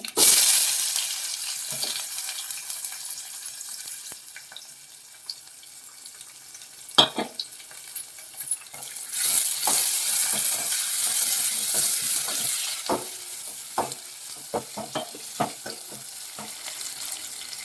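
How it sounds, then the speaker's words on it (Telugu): Tempering seeds and chopped onion sizzle in hot oil for a Telugu black-eyed pea and fenugreek leaf dal, a steady loud frying hiss broken by sharp crackles and pops, with stirring clinks near the end. "పోపు గింజలు వేసుకుందాం ఉల్లిపాయ"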